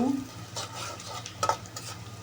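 Coriander powder and salt being stirred in a frying pan, a short scraping stir over a steady low sizzle with a couple of light utensil clinks, fairly close.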